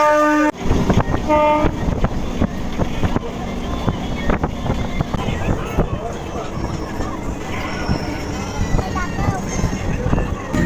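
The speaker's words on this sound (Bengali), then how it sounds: "ট্রেন এই মুহূর্তে এসে পৌঁছালো নদিয়ার পালপাড়া" A local train pulls into Palpara station in Nadia, a loud, close, continuous rumble of wheels and carriages with rattling clanks, a brief tonal horn-like burst at the start, and a voice speaking over the din.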